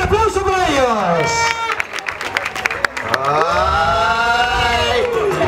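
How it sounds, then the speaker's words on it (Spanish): An audience applauds and cheers at the Tuxtepec 2014 carnival presentation. The clapping and crowd noise run under a loud, drawn-out voice that keeps calling out over the noise. "¡Fuerte el aplauso para ellos!"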